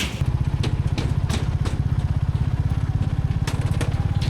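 A motorcycle engine thrums steadily nearby with a rapid, even putter, running continuously throughout, on a bridge at the West Bengal–Sikkim border on a mountain road.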